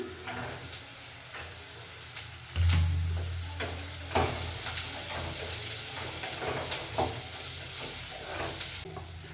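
Chopped carrots sizzle in hot oil in a pan for rava khara bath, with a steady frying hiss under repeated scraping stirs of a spoon.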